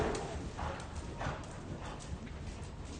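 Horse hoofbeats at a jumping clinic, a steady clip-clop pattern of footfalls moving through a busy arena with constant background noise and no clear talk.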